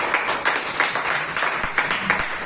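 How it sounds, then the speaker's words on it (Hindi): An audience at a talk on modern machines breaks into loud applause, a steady wash of many hands clapping with sharp individual claps popping out, close and filling the room with little talk. "तो जो लोग नहीं पहुंच पाए हैं उनके लिए एक बार जोरदार तालियां होनी चाहिए।"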